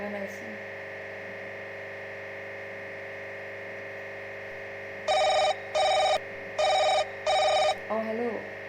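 A telephone rings back on an outgoing call, four evenly spaced ring bursts cutting through a steady low hum and sounding fairly close.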